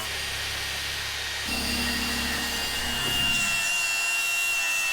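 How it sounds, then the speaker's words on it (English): A wire wheel on a power tool grinds old silicone away from around the emergency exit of a snow cat under restoration. It makes a continuous, close, harsh abrasive whir with a droning motor tone that shifts pitch partway through. "take the wire wheel and he's gonna go around and remove all the silicone around this emergency exit"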